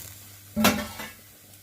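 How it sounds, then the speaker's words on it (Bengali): Mixed vegetables tipped into a dry wok with no oil, giving a short clattering burst and quick scraping stir, then a softer second scrape before settling into quiet. "কড়াইতে কিন্তু তেল দেইনি, আমি সাধারণত তেল কড়াইয়ের মধ্যে তেল গরম করে তরকারি রান্না করি না। দিয়ে দিলাম সব সবজি"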